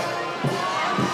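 A large crowd cheers outside a presidential palace as the president arrives, a dense, steady roar of many voices with brief swells, some high shouts among them.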